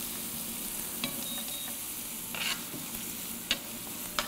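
Spanish onion sizzling in a hot pan for an Indian dish, a soft steady hiss with a few light stirring clicks and scrapes, fairly quiet.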